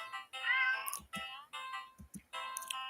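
A black cat in a horror video game meows several times in a row, clear, drawn-out and fairly close, with short gaps between calls and no talk.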